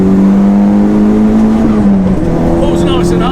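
Converted Audi TT with a K04 turbo upgrade pulls hard on a race track, its engine note rising steadily then dropping at a gearshift before climbing again, loud and close inside the cabin.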